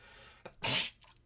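A single sharp sneeze bursts out close to the microphone, preceded by a quick intake of breath and followed by a faint exhale in a quiet room.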